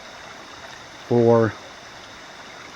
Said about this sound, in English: this pretty significant stream in the midst of all this blowdown that serves as the primary water source